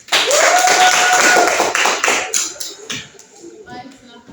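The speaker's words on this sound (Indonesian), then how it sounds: "Tepuk tangan buat kelompok 2." Clapping from a classroom of students for a presenting group, loud and dense at first, then thinning to scattered claps, with voices talking over it.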